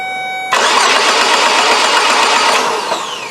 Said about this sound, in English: You crank the engine from here.